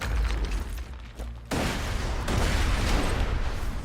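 SMG gunfire in Borderlands, heard as a dense, continuous burst of rapid shots that keeps going for the whole stretch, with a short dip and then a louder sustained run, close and loud.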